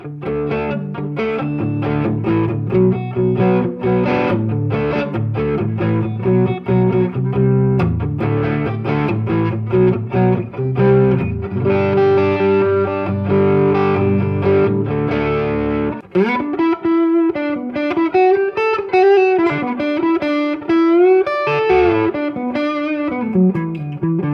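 Electric guitar with heavy distortion through a Tone Master Deluxe Reverb amp, strummed chords ringing and then single-note lead lines with bends, loud and close with no talking.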